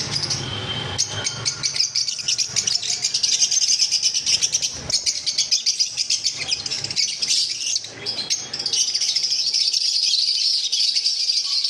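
Adult lutino Fischer's lovebirds kept for sale chirp loudly and nonstop, a dense, shrill chorus of overlapping tweets and squawks with only brief dips in the din.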